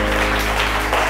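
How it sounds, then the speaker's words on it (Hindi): An audience at a televised show bursts into loud, dense applause, a steady wash of clapping with no voices. "जोर से तालियां"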